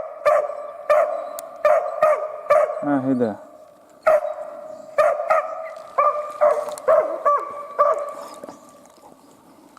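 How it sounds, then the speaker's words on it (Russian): A dog barks repeatedly in sharp, loud bursts in an outdoor taiga setting by a cabin, with a brief whimpering yelp between barks and someone speaking. "Думаете, хозяину приятно слышать такой бестолковый лай?"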